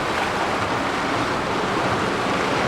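In the game Pentiment, a boat sails over the water while waves surge in a continuous, wide roar with breezy wind noise, steady from start to finish.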